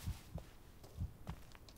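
Low, muffled heartbeat thumps in the Blair Witch video game, four beats in a steady lub-dub rhythm over a faint ambient hum, close and fairly quiet with no talking.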